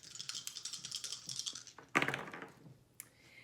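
Astrology dice handled and rolled: a string of light, close clicks and taps, then a sharp clattering tumble that rattles down, followed by a single small knock. The sound is quiet and there is no talk.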